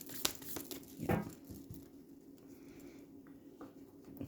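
Tarot cards being shuffled by hand: soft, quiet crinkling and pattering with a brief fuller riffle burst near the middle, then faint scattered card taps.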